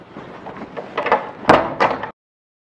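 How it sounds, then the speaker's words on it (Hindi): A door being pulled shut: a rattle and scrape building to a firm knock and a second clack about two seconds in, close and fairly loud, then silence. "बंद कर लो दरवाजा।"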